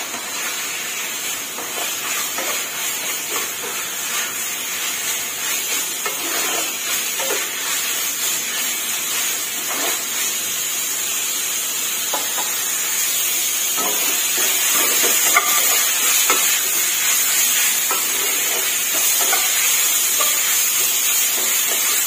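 Pork belly sizzles loudly in a hot pan during a stir-fry with lemongrass, a dense steady hiss and crackle broken by scraping stirs, building slightly in intensity over the span with no voices.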